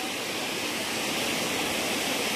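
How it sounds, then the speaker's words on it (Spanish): Water pours down from the mountain at La Huertita dam in San Martín, San Luis, a loud, continuous roaring rush of falling water with no break and no talking. "allá también cae baja agua de la montaña"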